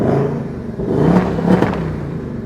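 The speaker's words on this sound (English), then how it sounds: "Well, no one's inside the car. You don't believe me? Take a look." A 2024 Ford Mustang GT V8 revving with nobody inside, two quick throttle blips rising and falling over a rumbling idle, close and loud.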